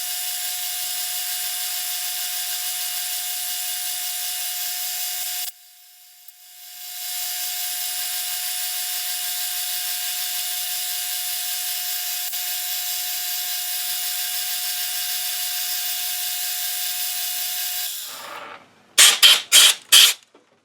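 A metal lathe boring out a quill with a boring bar, a steady high-pitched cutting whine with a short pause, then stopping with a few sharp clicks at the end.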